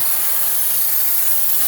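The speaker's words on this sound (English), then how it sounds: "We're going to use the heat and the steam from this to really break everything up." A handheld steam cleaner spraying steam onto a dirty surface, a loud, continuous, close hiss that stays steady throughout.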